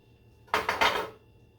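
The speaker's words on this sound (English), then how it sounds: "we're going to give the pan a quick swipe here" A utensil gives a frying pan a quick swipe after cooking zucchini, one short scraping stroke of about half a second, close and distinct against a quiet room.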